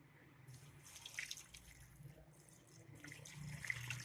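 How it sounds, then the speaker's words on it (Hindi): Water, about two glasses, trickles and splashes softly into a pressure cooker holding Lahori-style beef paya, a quiet, uneven pour with faint droplet sounds. "और 2 ग्लास इसके अंदर मैं पानी के ऐड करूंगी।"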